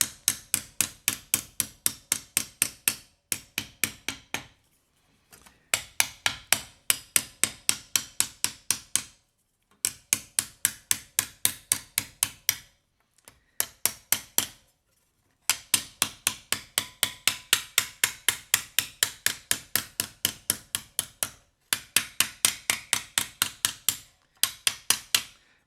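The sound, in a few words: hammering a pierced metal spatula on its side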